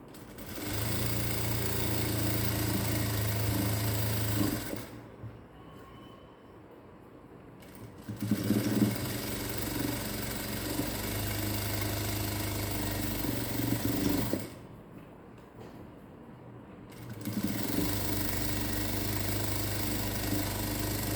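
A sewing machine stitches a close-neck blouse in long, steady runs of rapid mechanical whirring, stopping twice for a few seconds before starting up again, close and even.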